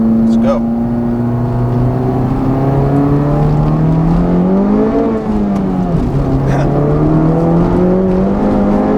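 A 2019 Honda Civic Type R with a Borla exhaust pulls away under acceleration, its engine note climbing steadily and loud, dipping at a shift midway before rising again, with a steady drone throughout.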